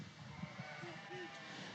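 At a youth market sheep show at a county fair, a sheep gives a couple of faint bleats over low background chatter and a voice on a microphone.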